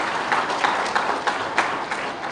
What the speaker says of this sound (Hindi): और एक बार ताली बजाओ जिला अध्यक्षों के लिए